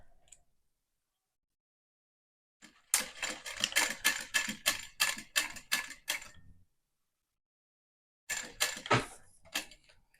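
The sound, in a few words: sewing machine stitching fabric pieces together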